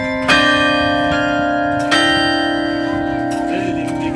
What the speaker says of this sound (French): Si par exemple on joue trop fort les grosses cloches, naturellement elles prennent plus d'espace sonore.